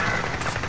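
A short, dense rattle of rapid automatic gunfire in Call of Duty Warzone, loud and continuous for under a second.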